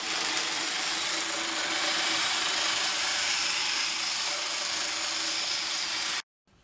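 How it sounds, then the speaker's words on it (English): An angle grinder cuts through a piece of aluminum metal with a loud, continuous, harsh whirring grind that holds steady up close, then stops abruptly near the end. "we're taking a new piece of metal and we're gonna grind that in half for our new leads"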